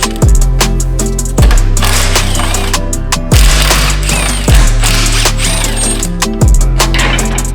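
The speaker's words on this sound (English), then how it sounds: "Simply just removing a series of bolts that are easy to reach and it drops down" Ratchet wrench loosening subframe bolts on a BMW, loud rapid ratcheting clicks in repeated strokes roughly every second, close up and without talk.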